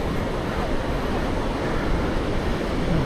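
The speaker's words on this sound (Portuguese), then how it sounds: "Agora o vento deu uma acelerada aí." Strong wind buffets the microphone on the beach at Praia do Santinho, a steady loud rumbling roar that swells in gusts, with the sound of surf blended underneath and no talking.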